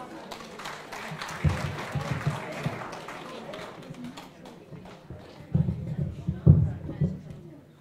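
An audience at a performing arts show in a pub welcomes a variety group with a burst of applause, a dense patter of clapping that swells in short waves while people talk and call out over it.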